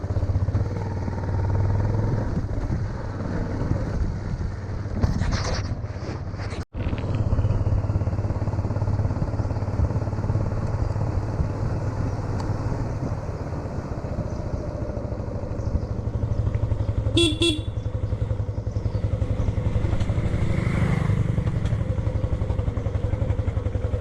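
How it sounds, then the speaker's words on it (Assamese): A motorcycle engine drones steadily throughout a ride to a repair shop, loud and close, with brief clatter around the fifth second and a short high horn-like tone later, no talk heard. "এতিয়া স্কুলৰ পৰা ওলাই মেলি বাইক বনাবলৈ গৈ আছো"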